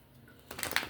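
Tarot cards being shuffled by hand during a reading, a quiet stretch giving way to a brief burst of crisp riffling and flicking up close, with no talking.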